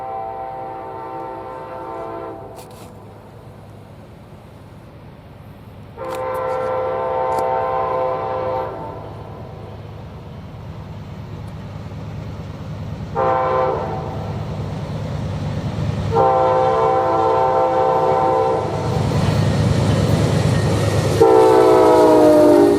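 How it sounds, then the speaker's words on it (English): Amtrak Auto Train 52 running north from Sanford through Folkston, Georgia, sounds several long, loud horn blasts over a steady rumble of rolling rail cars that swells as the train draws closer. "Amtrak Auto Train 52 heading north from Sanford,"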